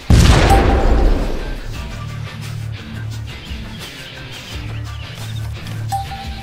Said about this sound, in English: fragmentation grenades can be a powerful weapon to repel groups of embedded enemies